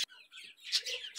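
Small pet birds kept together indoors, giving a quick run of bright, high chirps and tweets that come close and fairly loud, rising to a sharper peak partway through.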